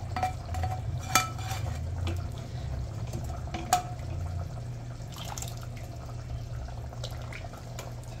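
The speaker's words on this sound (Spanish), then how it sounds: "Se revuelve." A spoon stirring a wet mixture in a cooking pot, with a continuous low churning and sloshing, a few sharp knocks against the rim, and faint drips, close up.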